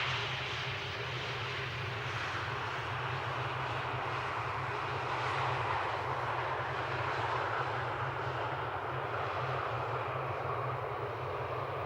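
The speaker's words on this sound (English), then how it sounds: "I think a DHL A300 is going to the center, as we call it." A DHL Airbus A300 jet at night at Amsterdam Schiphol, heading for runway 18 Center, gives a steady, distant engine roar that holds evenly throughout with no talk over it.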